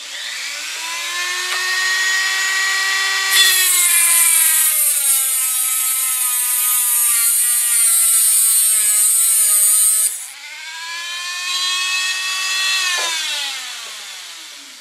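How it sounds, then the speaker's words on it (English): A Dremel cutoff wheel cuts through a metal antenna resonator rod, a loud, steady high-pitched whine whose pitch dips and climbs as it bites into the metal, with a brief drop in pitch near the end. "I just prefer to use a cutoff wheel on the Dremel tool."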